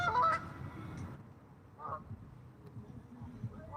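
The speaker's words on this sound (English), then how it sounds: "Y'all see the birds, the ducks?" Ducks or geese honk outdoors in a few loud calls at the start, then fainter scattered honks follow at a moderate distance.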